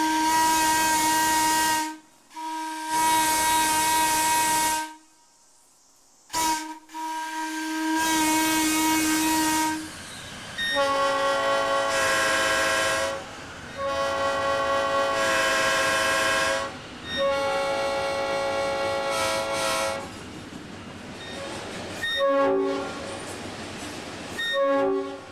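A Nathan P5 train horn blasts again and again at close range, loud multi-tone chords held for a couple of seconds each. Short silent gaps separate the blasts, and later blasts are longer and wavering.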